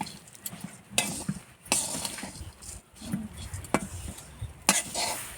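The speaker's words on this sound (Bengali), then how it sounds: "এবার ভালোভাবে নেড়ে চেড়ে ওগুলো মিশিয়ে নিব।" Flattened rice is stirred and mixed in a pot on a clay stove, with scraping strokes and occasional sharp clinks of a utensil against the pot at a loose, uneven rhythm, close and fairly quiet.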